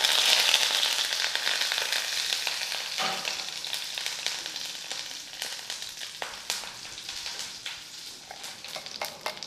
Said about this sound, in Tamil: இப்போ கருவேப்பிலை சேர்த்துக்கலாம்.